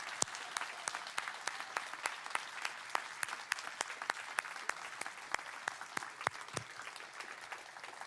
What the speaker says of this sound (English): how about one more round of applause for Gary, Michael, and Father Bob for all they've done for us.